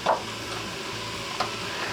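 A Pampered Chef chopper stirs cooked ground meat in an Instant Pot, giving a soft scraping and light sizzle with a few brief louder scrapes, close and alone.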